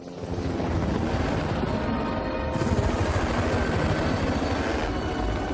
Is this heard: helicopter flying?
yes